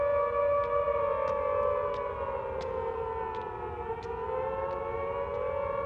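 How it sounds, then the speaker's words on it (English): Air raid sirens wail over a city during a wartime blitz, several long rising and falling tones overlapping steadily, with faint echoing clicks above them. "You could hear the sirens echoing off walls."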